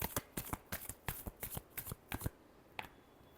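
Tarot cards being shuffled, a quiet close series of crisp riffling snaps in an uneven rhythm, about a dozen bursts followed by a final lone flick.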